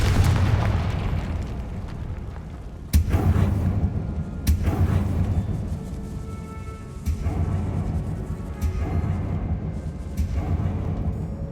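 In the Hogwarts Legacy video game, a Confringo spell goes off in a decaying catacomb with deep booming blasts, sharp bursts at a few points over a sustained rumbling bed, and a voice calling out at moments.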